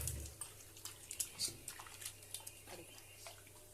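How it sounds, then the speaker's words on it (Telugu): Tap water running at a kitchen sink to wash fresh chicken, a faint splashing stream with scattered drips and small splashes, fairly quiet throughout. "ఇక్కడ ట్యాప్ దగ్గర నీళ్ళు ఇప్పుదాము,"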